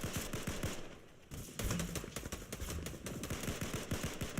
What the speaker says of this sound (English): Of gunfire coming through